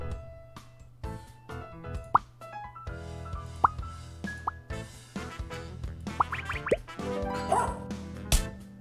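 Short dog barks and yips from the chess roguelike game WizardChess, scattered among plopping piece sounds and chimes, a series of brief, moderately loud calls spread across the clip with no talking.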